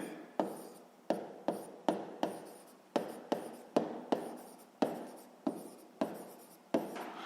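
Repeated pen strokes writing out a sixth-grade math solution, each stroke a sharp scratch fading quickly, about a dozen in steady rhythm, close and clear with no voice.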